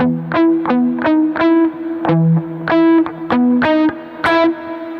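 Electric guitar plays short, choppy muted chords in a repeating rhythmic pattern, each stroke clipped and punchy with a slightly distorted tone.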